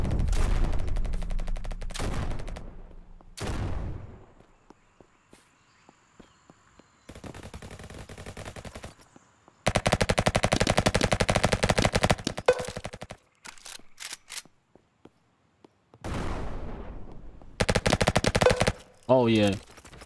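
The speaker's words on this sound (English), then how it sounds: "that SMG go crazy" Bursts of rapid SMG fire from a Roblox first-person shooter rattle in several loud volleys separated by short pauses, with scattered single shots and faint game sounds between them.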